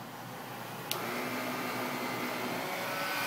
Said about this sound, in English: I'm going to put the vacuum at the lowest speed just so that you can hear the brush